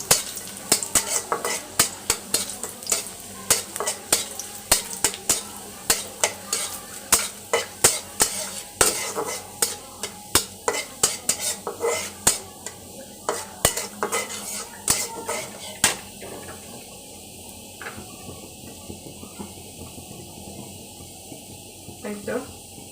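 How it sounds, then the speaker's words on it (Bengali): A metal spoon stirs dal in a pan as garlic fries for the tempering, giving a long run of rapid, irregular clinks and scrapes over a soft, constant sizzle. "ডালটা শুধু রসুন দিয়ে বাগার দিব, আর কিছু দিব না।"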